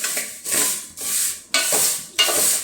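Vermicelli (semiya) dry-roasting in a pan without ghee, heard as repeated scraping stirs in a steady rhythm, each sweep a dry rustling hiss close by.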